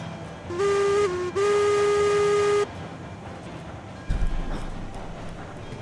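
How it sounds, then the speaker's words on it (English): Steam trains in a railway game, heard as a loud, steady steam whistle tone lasting about two and a half seconds with a brief dip, then quieter rumbling and a low thump toward the end. "That's what you call synchronized chuffing."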